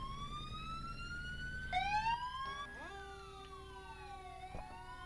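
Emergency vehicle siren in a Roblox Florida roleplay game, with a medic and fire engine responding to a building fire: a loud wailing siren sweeping up and down, with tones shifting partway through as another siren pattern joins.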